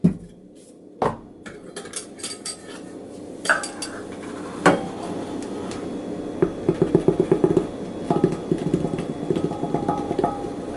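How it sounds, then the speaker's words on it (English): Measuring cups clatter and scrape against a mixing bowl as flour and cornmeal go in for corn dog nugget batter, a busy run of close metallic clinks and knocks with no talking. "So we'll start off with our cup each of flour and cornmeal."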